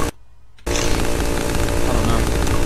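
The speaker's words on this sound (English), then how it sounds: "I don't think I'm supposed to hear that chainsaw anymore." Loud, sustained chainsaw engine roar in the horror video game Cry of Fear, kicking in abruptly after a brief quiet moment and running continuously up close.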